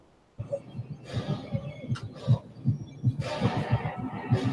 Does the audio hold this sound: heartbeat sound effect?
yes